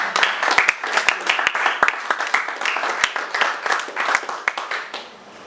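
A church congregation applauds and acclaims the Lord during a sermon, steady crowd clapping with sharp individual claps standing out, mixed with cheering voices, tapering off at the end.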